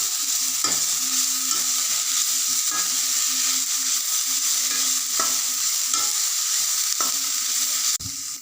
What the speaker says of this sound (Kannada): ಈ ಕ್ಯಾಬೇಜನ್ನು ಸಹ ಚೆನ್ನಾಗಿ ಫ್ರೈ ಮಾಡ್ಕೊತ ಹಾಗೆ ಬೇಯಿಸ್ಕೊಬೇಕು.